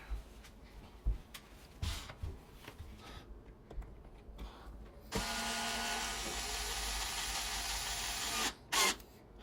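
A power drill tightens screws while a smart lock is installed on a door: a few short ratcheting bursts, then a sustained whirring run of about three seconds, with a final brief burst, close by.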